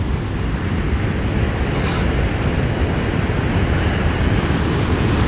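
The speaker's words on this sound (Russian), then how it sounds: "поэтому прямо море пенится" Foaming winter sea waves roll in along a German coast, a loud, continuous roar of surf blended with heavy wind buffeting the microphone, steady throughout with no voices.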